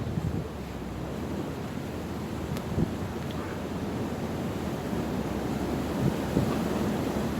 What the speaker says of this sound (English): It's too strong, and it's a warm wind as well.